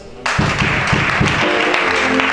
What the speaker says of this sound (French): Acclame ça.